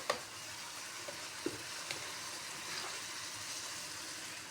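Soft, quiet sizzling of butter in a wok, with a few light scrapes and taps of a utensil as it's stirred.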